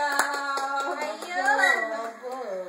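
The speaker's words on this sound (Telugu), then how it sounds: "క్లాప్స్" Hands clap in a fast, regular beat of sharp taps while a child sings or chants steadily over them at close range.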